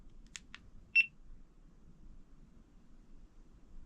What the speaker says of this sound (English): Nice and loud beep.